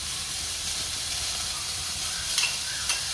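Cabbage, leeks and capsicum sizzle in a hot pan as they cook, giving a steady, close frying hiss with a couple of brief stirring clinks near the end.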